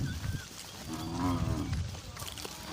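A Gir cow lets out one long, low moo in the middle, fairly close, over a soft outdoor background in a farm field.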